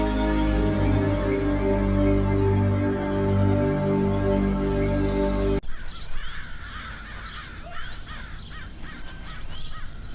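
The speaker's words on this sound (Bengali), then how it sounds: "কাকগুলো পুরো উঠানটা একেবারে ময়লা করে ফেলেছে" Crows caw repeatedly in a harsh chorus, first over a steady droning tone, then more scattered calls against outdoor background noise.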